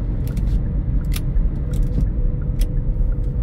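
A car drives along a road near Gimcheon, with a steady low engine and tyre rumble throughout and some faint light rattling from inside the cabin.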